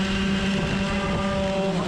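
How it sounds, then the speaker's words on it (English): A racing kart engine at a Club 100 sprint race at Lydd, a loud, close, sustained buzzing drone with a steady pitch and strong harmonic whine, running alone without any talk. "I thought I'd go quiet there for a sec so you could hear what happened to my kart engine"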